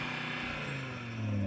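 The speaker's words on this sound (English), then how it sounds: "So I'm going to rev up this Audi" An Audi RS3 five-cylinder engine idles and then climbs in pitch as it revs up near the end, a steady low mechanical drone rising briefly.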